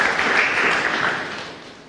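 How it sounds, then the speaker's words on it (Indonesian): A church congregation claps together in a burst of warm, dense applause that starts full and gradually fades over two seconds, with no talking. "Berikan tepuk tangan yang meriah buat Tuhan."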